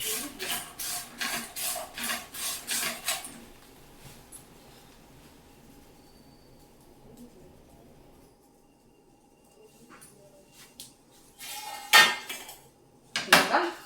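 Roasted coconut mixture scraped from a hot pan onto a plate with a metal spatula: a rapid series of loud rhythmic scrapes and clinks, a quieter pause, then a few more sharp metallic scrapes at the end.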